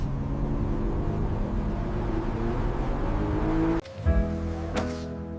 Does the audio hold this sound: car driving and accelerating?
yes